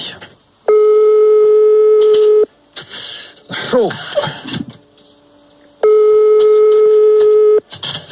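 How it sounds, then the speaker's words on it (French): A radio show dials out on a telephone line, producing two long, loud, steady line tones. Between them comes a muddle of clicks and a brief spoken word. "On compose le numéro de téléphone"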